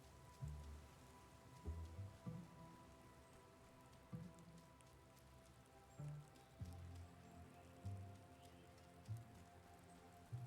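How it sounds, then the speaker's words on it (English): Steady rain summoned by a spell in the video game Wylde Flowers patters on a surface, with periodic low thuds and drips in a quiet, even rhythm. "Alright, boss lady, I made it rain."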